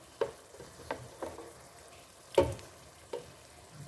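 Blended onion and garlic cooking with turkey in a pan for spaghetti sauce, a quiet scene of soft scattered stirring scrapes and light taps, one sharper clink midway, with a faint sizzle underneath and no voices.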